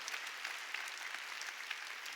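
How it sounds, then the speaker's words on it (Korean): A church congregation claps together during a Sunday worship service, a steady, dense patter of many hands filling the room without pause, fairly soft and evenly sustained throughout. "읽은 사람만 박수치라고."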